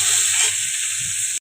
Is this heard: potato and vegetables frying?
yes